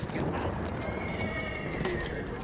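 A horse in Battlefield 1 neighs loudly amid dense battlefield noise, its whinny standing out briefly over constant rumbling game sounds.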